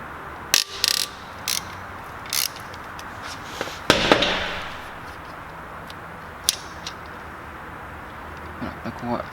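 A ratchet loosens the 13 mm tensioner nut during timing belt work on an Audi A4 2.0 TFSI, giving a few short separate clicking bursts and one louder metallic clack in a quiet garage while someone speaks French.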